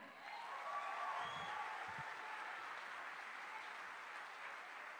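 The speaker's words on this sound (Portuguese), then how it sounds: "Aplauda o Rei." A church congregation applauds together, a soft, distant, even wash of clapping that swells quickly and holds steady with a few low thumps early on.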